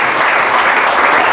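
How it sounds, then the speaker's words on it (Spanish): Loud, dense congregation applause in a church service, a brief burst of many hands clapping together close and full. "Es un aplauso fuerte al Señor"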